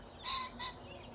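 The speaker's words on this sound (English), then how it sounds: "You hear the rooster?" A rooster crows in two short, raspy bursts, moderately distant, over a quiet outdoor background.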